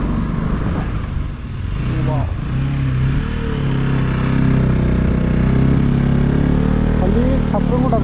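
An NS200 motorcycle engine hums and revs steadily while climbing a winding hill road with hairpin bends, with wind rush and a rider talking over it.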